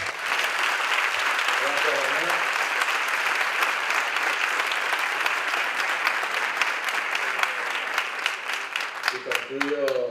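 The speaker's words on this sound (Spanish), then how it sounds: "Fuerte aplauso para Daniela Niebla." Audience applause at a formal civic plenary session marking the city of San Roque's 319th anniversary, given for Daniela Niebla. Loud, steady clapping fills the room for ten seconds, with voices surfacing faintly near the end.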